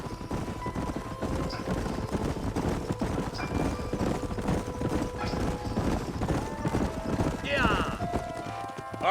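Horses trotting in the Western video game Red Dead Redemption: steady clip-clop of hooves over a dense bed of game ambience and background noise, with a short snort or whinny near the end.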